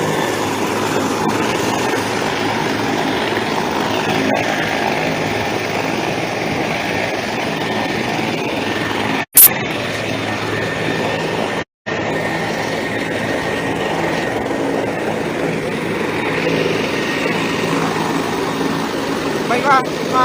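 A helicopter sits running on the ground before takeoff, its engine and rotor producing a steady, loud whine and rumble throughout, with a couple of brief cuts in the sound.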